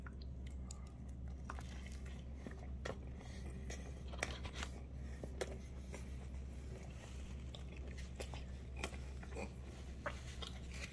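Soft, close crunching and wet chewing come from bites of garlic combination pizza with blue cheese and crisp bread crust, a quiet series of irregular clicks and squishes with no talking.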